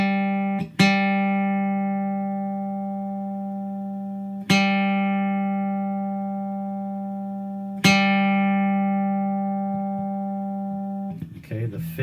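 A single guitar's fourth string is plucked three times, each note ringing out long and steady before slowly decaying, with a brief rustle of handling at the end.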